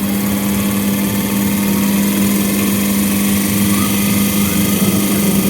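A 220 V DC motor armature spins up to high speed on a test rig with carbon brushes, giving a loud, steady whirring hum with a strong constant tone that holds unbroken throughout.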